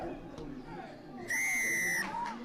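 Referee's whistle in a rugby league match, a single long shrill blast sounding over steady crowd noise and distant shouting in the stands.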